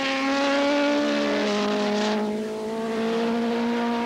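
AMA Superbike racing motorcycles at Laguna Seca, loud high-revving engines screaming past close by with rising and falling pitch as they shift and pass, one bike briefly dipping before the roar resumes.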